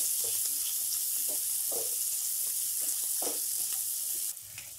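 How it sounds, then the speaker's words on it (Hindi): Chopped onions sizzle steadily in a hot pan as they fry toward brown, a close, continuous crackling hiss with occasional stirring scrapes and no talking. "एक दो बड़ा प्याज जिसे हमने छोटे छोटे पीसेस में काट लिया है उसे डाल देंगे और इसे हम 6-7 मिनट तक ब्राउन होने तक भूनेंगे"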